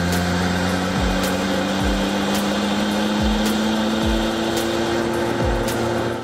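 A 1993 Mazda RX7 R1 with an original twin-turbo rotary engine runs steadily at close range. A constant whine and hum carry through, and sharp pulses recur roughly every second.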